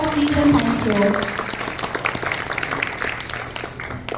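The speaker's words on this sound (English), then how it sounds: "So let us give him one more round of applause, please, and thank you." Applause from an audience at a talk on an immigrant life story, a dense round of clapping that fades gradually, with voices and talking mixed in.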